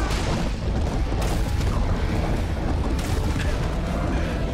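Continuous roaring rocket explosions in the shooter game Serious Sam 4, a dense, loud rumbling barrage with heavy low-end booms and no pauses between blasts.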